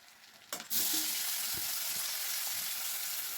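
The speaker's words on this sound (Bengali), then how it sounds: "তো টমেটোটা দিয়ে নাড়াচাড়া করবো" Tomato frying and being stirred in hot oil and butter for street-style pav bhaji, a loud steady sizzle that starts abruptly, with a few soft scrapes and knocks of stirring.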